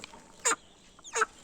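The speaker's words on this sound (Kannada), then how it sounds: "ಕೋಳಿ" A village hen gives two short clucks about a second apart, close and clear against a quiet background.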